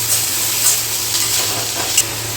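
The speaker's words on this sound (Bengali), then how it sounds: "পেঁয়াজটা আমরা ভালো করে ভেজে নেব।" Onion paste fries in hot oil with a steady, loud, even sizzle that runs throughout, with no voices.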